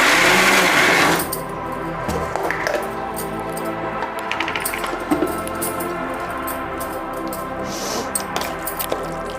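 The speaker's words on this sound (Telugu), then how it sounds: "మిక్సీ వేసేసుకుందాం." A mixer grinder whirs loudly at first while grinding fried ridge gourd for chutney, then settles into a steady grinding drone with intermittent rattles and knocks, close by, with no talking.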